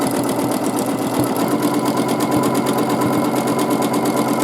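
A sewing machine doing free motion quilting on a meandering ribbon pattern runs steadily at close range, its needle hammering in a fast, even rhythm without pause.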